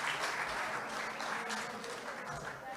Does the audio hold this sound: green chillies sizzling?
no